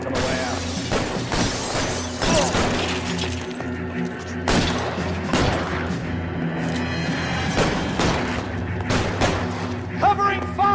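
Rapid gunfire crackles through a shootout in the video game LA Noire, with loud overlapping bursts and sharp impacts over a steady low rumble, pausing briefly before the shots resume.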